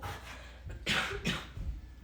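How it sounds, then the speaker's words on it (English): Two short, harsh coughs sound up close, one after the other, with quiet rustling between them. "Sorry that I'm coughing a lot."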